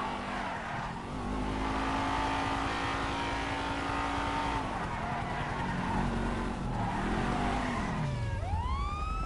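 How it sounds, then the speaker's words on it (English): Cars race along a highway during a police chase in the video game GTA 5, engines roaring and revving continuously with sirens rising and falling and a sharp tire screech near the end, all loud and dense. "Stop your car now, Miss Schultz!"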